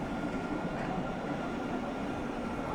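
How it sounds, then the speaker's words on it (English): A modern city tram rolling through a square in Tours, France, a continuous low rumble and hum of wheels on rails, steady and fairly close with no breaks. "The tram is handy because it takes you to the train station"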